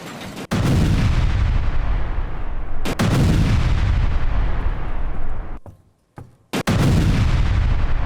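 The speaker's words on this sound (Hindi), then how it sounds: "हमले में यूक्रेनी पोस्ट को किस तरह से उड़ा दिया गया।" Heavy artillery strikes hit a Ukrainian military post in Sumy, with three loud, booming blasts, each followed by a long rolling rumble and a brief quiet gap before the last.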